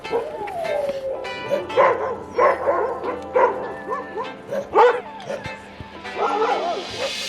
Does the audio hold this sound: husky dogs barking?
yes